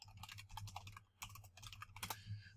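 Quick typing on a computer keyboard, close and quiet, with bursts of rapid key clicks separated by short pauses and no one speaking.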